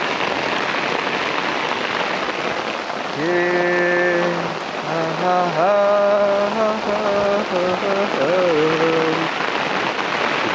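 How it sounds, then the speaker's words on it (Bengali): Heavy rain falls in a Bengal village as a constant, loud patter, while a voice sings a melody over it through the middle. "সেই রকম বৃষ্টি হচ্ছে আমরা ভিজে গেলাম"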